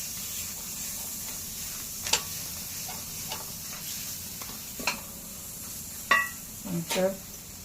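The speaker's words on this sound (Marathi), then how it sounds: "तिखट टाकूया हे पण चांगलं परतून घेऊया" Chili powder being sautéed in a pan gives a soft, steady sizzle, broken by occasional spoon taps and a few sharper clinks toward the end.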